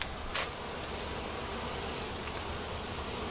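Honeybees in a shipping box give off a steady, close, continuous buzzing hum, with one brief louder buzz near the start.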